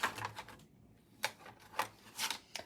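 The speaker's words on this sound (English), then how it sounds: "I want to rip this down." A scrap of paper being ripped by hand, heard as a few faint, short papery tearing bursts separated by quiet gaps, with no talking.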